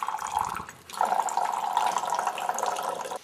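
Water poured from a container into a lab vessel holding 5 grams of glucose, a short trickle then a steady close splashing pour that runs for a few seconds before stopping.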